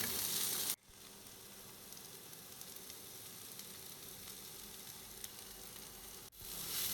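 Raw chopped vegetables and onion frying in a pan with salt for palak atta noodles, a steady close sizzle with occasional stirring, briefly cut off near the start and end.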